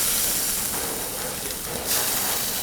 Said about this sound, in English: stir fry the watermelon